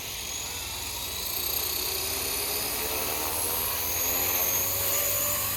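A Blade 230s Smart v2 RC helicopter flies nearby, its high-pitched motor whine and rotor buzz holding steady and loud with slight swells in level and no talking.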